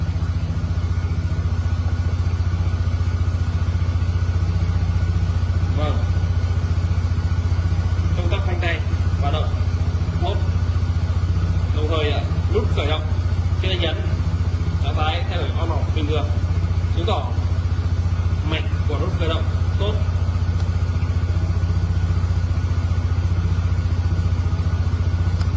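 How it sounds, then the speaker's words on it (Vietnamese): A Piaggio motorcycle engine runs steadily and loudly up close with throttle blips and mechanical clatter, the rear wheel spinning, while someone speaks over it throughout. "kéo ga để nhìn bánh xe"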